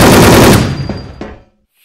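Loud, dense automatic gunfire from the online shooter WolfTeam: a sustained burst for about half a second, then a few scattered shots that trail off into silence.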